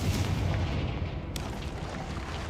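A Confringo fire spell explodes in Hogwarts Legacy as a heavy, rumbling low blast that rolls on for a couple of seconds, with a sharp crack near the middle, loud and close.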